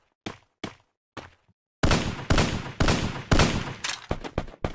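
Gunfire in the mobile battle-royale game Free Fire: three or four sparse single shots, then a dense run of loud bursts that crowd together into continuous rapid fire.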